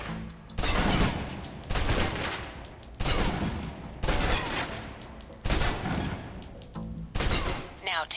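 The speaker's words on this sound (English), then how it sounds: "Now, let's move on to the submachine gun. Now let's empty the clip." Submachine gun emptying a full magazine in the video game Alpha Protocol, fired in several loud sustained bursts with short gaps between them, close and dominant throughout.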